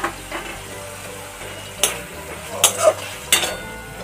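Spice masala with chopped tomato is fried in oil in a kadai for a potato dum: a soft, steady sizzle broken by several sharp scrapes of a spatula stirring against the pan.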